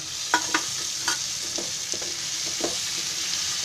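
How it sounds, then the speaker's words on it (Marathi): Onion and tomato fry in a pan for green moong dal khichdi, giving a continuous close sizzle with several light spatula scrapes and taps, and no voices. "कांदा मस्त भाजायला आला आहे."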